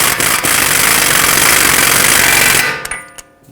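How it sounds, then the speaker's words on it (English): A power tool, likely an impact wrench, hammers in a loud, continuous rattling burst for about two and a half seconds as it runs the axle nut down on a 2012-2017 Toyota Camry front knuckle, then stops abruptly with a few faint clicks. "I'm gonna bottom it out with a power tool"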